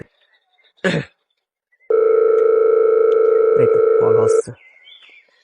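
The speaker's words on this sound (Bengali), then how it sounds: "দেই আমার বাটপার বন্ধুদের একটা ফোন" A telephone dial tone sounds while someone places a call, a steady loud tone lasting about two and a half seconds. It comes after a brief noise and cuts off into faint rustling.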